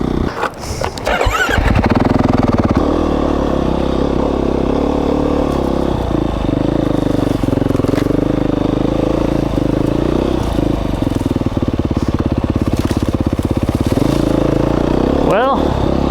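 A dual sport motorcycle climbs a steep, rocky trail in the Trinity Mountains of Idaho, its engine droning loud and close with revving swells, clatter from the rocks and brief squeals.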